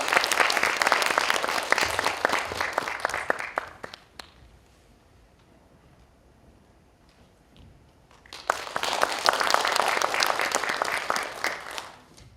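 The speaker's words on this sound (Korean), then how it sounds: "감사와 환영의 박수 다시 한번 부탁드리겠습니다" An audience at a literary festival ceremony claps warmly in welcome, a dense burst of applause that fades to near silence and then swells again into a second long round of clapping.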